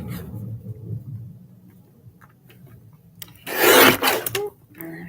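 A saw or cutter works along a marked line on a flocking project, a long rasping burst in the middle after quiet low rumble, then brief scraping at the end; no talk.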